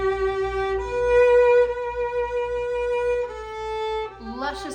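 Violin playing Amazing Grace in a classical style, a smooth sustained melody with rich vibrato, a few long held notes heard clearly and alone.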